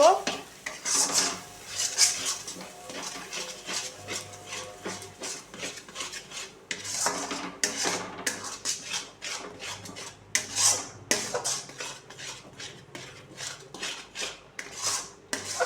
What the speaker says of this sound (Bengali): এবার আমি ভালো করে নাড়ব